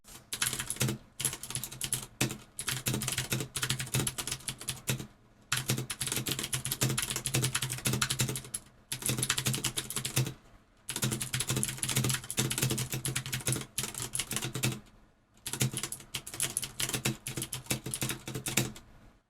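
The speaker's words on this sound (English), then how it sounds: "it was the Cherry MX Blues, which are a very loud keycap." Loud, clicky typing on a Vortex Pok3r RGB mechanical keyboard with Cherry MX Blue switches, in fast bursts with brief pauses, close up, with no voices.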